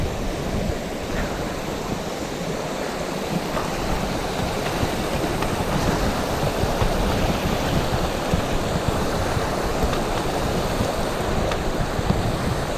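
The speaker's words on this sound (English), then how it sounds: "So yeah, just a quite an easy river crossing." Shallow river water rushes steadily at a low-water crossing in Glen Feshie in the Cairngorms, Scotland, a continuous close, broadband flow with no talking.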